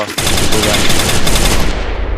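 FAMAS rifle fire in Garena Free Fire, a rapid, loud, continuous burst of automatic gunshots lasting the whole stretch with no pauses.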